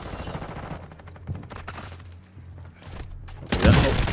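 AK rifle fire in the Call of Duty DMZ video game, a fast burst of loud gunshots in the opening second, scattered quieter shots after, then a heavy close volley near the end.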